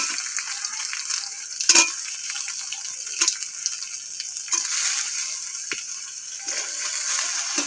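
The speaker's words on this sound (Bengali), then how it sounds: "এবার তেলো কাঁকড়াটা দেব," Crab fries in hot oil with whole black cumin and curry leaves, giving a steady, close, loud sizzle with a few sharper pops and crackles throughout.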